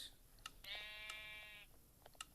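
A single short sheep bleat from a video game, wavering and clear, surrounded by faint clicks and taps.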